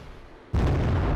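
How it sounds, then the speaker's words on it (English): After a brief quiet moment, a heavy rocket barrage from a modern wargame hits all at once, a sudden loud blast that swells into a dense, sustained roar of explosions. "let's just do a rocket run here, because we can."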